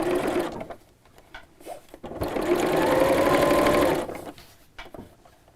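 A sewing machine stitches an invisible zip into a fabric cushion cover, its motor humming in short starts, then a steady run of several seconds before slowing, close up with fabric rustle and no talk.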